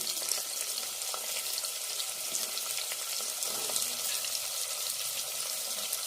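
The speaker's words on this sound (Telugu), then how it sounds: "ఇప్పుడు ఈ తాలింపు వేగినాక ఉల్లిపాయలు వేసుకుందాము" Onions frying in hot oil tempering for a potato curry (aloo pulusu), giving a steady, moderately faint sizzle that holds throughout, with faint clinks of stirring and no talk.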